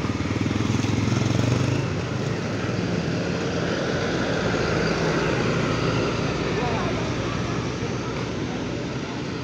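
A Bagong Selendang Biru bus from Tulungagung pulls into Purabaya bus terminal with a steady, loud diesel engine drone that fills the whole stretch, under someone talking.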